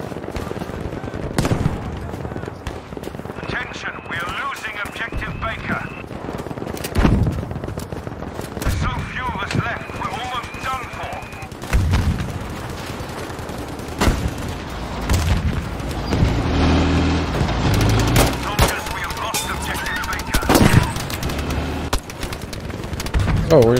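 Gunfire in Battlefield V on Xbox One, with bursts of automatic fire and booming shots coming and going over about twenty seconds, mixed with other battlefield noise and occasional talk.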